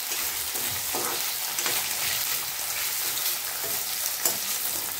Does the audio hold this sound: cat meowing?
no